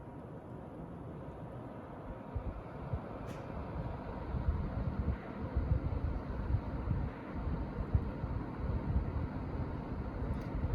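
Constant low whooshing hum of Thermaltake Riing 120mm PC radiator fans spinning at full speed, about 1,500 RPM, a broadband airy roar that stays steady throughout with no voices.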